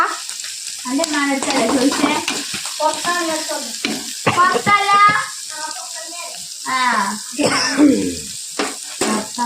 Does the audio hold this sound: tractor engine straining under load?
no